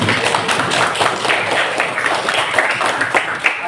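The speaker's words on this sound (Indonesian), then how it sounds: "Nah, tepuk tangan." Classroom applause from students in a coding and artificial intelligence lesson, a dense, steady patter of many hands clapping at once, fairly loud and close, continuing evenly for a few seconds.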